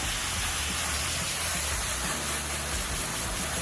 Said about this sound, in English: Let's spray it off a little bit because it got some residuals on it